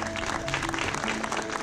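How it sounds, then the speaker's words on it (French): Audience applause at a company event day, a dense wash of clapping that stays steady and fairly close, with faint murmurs in the mix. "On peut vraiment l'applaudir."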